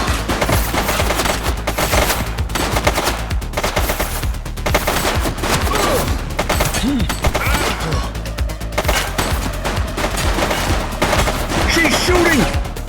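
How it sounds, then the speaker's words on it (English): Dense, loud gunfire from a suspect in The Precinct police game, rapid overlapping shots and bursts crackling continuously over a busy mix of game sounds with no break for the whole stretch. "She's shooting!"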